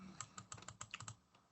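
Quick, light keystrokes on a computer keyboard, a burst of about a dozen crisp clicks in an uneven rhythm, close and quiet, then trailing off into near silence.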